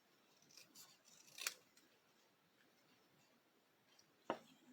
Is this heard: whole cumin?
no